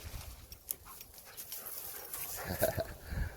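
A dog pants quickly and steadily nearby, with faint rustling and small outdoor noises around it.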